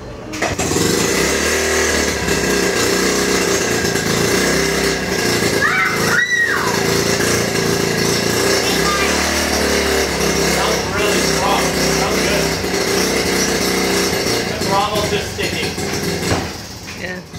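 Engine of a 1969 Honda Mini Trail barn-find motorcycle that leaks gas, running steadily and loudly up close with a buzzy, high-revving drone and occasional throttle changes.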